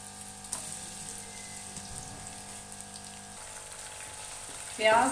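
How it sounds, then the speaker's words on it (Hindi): Onions frying in ghee in a kadai give a steady, close sizzle and hiss, with a louder burst of crackling near the end. "डालकर हमने इसे चंद मिनट के लिए घी के अंदर फ्राई करना है।"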